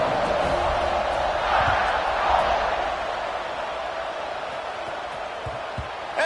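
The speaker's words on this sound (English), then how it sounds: "this crowd now ready to get behind them" A steady stadium crowd roar fills an American football video game, a constant broadband wash that swells slightly early on, then settles into a level background din.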